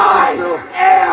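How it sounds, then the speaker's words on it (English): A hot crowd at a live indie wrestling show roars and chants loudly, dipping briefly before surging again. "We got a hot crowd here in their reaction"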